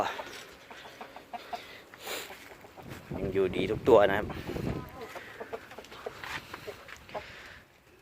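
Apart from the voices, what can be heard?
gamecock chickens clucking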